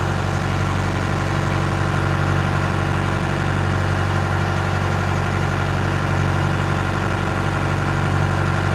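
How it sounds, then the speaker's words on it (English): A loud engine idles nonstop: a dense, steady low rumble with vibration, unbroken and close, with no talking. "The engine's loud?"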